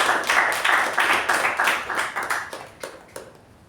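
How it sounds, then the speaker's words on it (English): A round of applause at a club meeting for the presiding officer: a modest group clapping in a brisk, uneven patter that thins out and fades over a few seconds. "can we have a huge round of applause for the presiding officer?"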